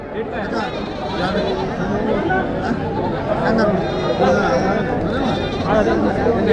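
Goats bleat repeatedly at a large goat market in Karnataka, their calls overlapping with steady crowd chatter and nearby talking throughout.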